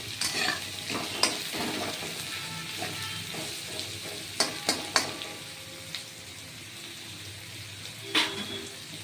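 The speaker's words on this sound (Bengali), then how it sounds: "এটা ভাজা হবে কুমড়ো আর পেঁয়াজটা এবার ভাজা হবে" Pumpkin and onion fry in a pan with a soft, continuous sizzle, broken by a few sharp clinks and scrapes of stirring.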